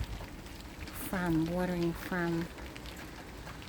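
Steady rain falls over a vegetable garden where okra seeds were recently planted, a soft continuous patter close by, with a brief stretch of a person speaking partway through.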